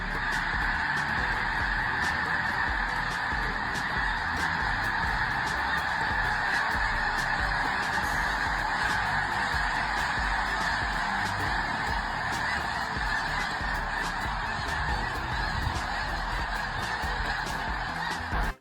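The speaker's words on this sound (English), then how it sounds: "A massive flock of birds burst from the field, as if answering a distant call only they can hear." A massive flock of birds bursts from a winter field, honking like geese in a dense, continuous chorus that stays loud and steady throughout.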